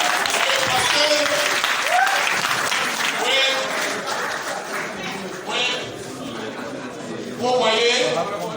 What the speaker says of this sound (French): Il faut applaudir encore.